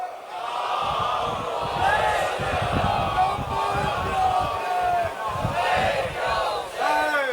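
A large religious gathering recites salawat aloud together, a sustained, loud chorus of many voices in rhythmic unison that swells and continues, with a lone voice rising near the end.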